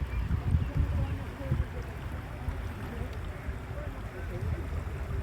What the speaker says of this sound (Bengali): এই পদ্মা নদীর পানির একদম গর্জন